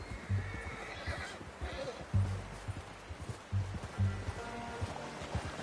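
Horse hooves clop in Red Dead Redemption 2 in a steady, moderately close walking rhythm, and a horse whinnies as well, while people talk in a low voice over the sound.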